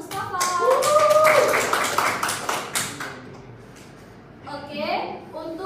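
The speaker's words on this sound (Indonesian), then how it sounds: "Beri aplaus untuk Mustafa." Classroom applause for a student's correct answer in an accounting lesson, a burst of clapping from a group of pupils lasting a few seconds, mixed with voices and a teacher speaking, then fading as talk resumes.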